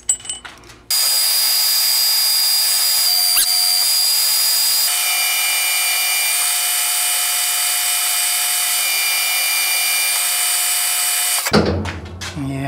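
A metal lathe takes a roughing cut on a telescope mount part: after a brief knock, a loud steady whine with tonal ringing runs for about ten seconds, then stops, followed by some clatter.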